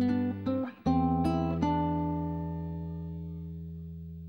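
Guitar plays the first measure of Jesu, Joy of Man's Desiring in a rolling triplet feel: a few quick plucked notes over a deep ringing bass, then a long sustained chord fading slowly, close and solo.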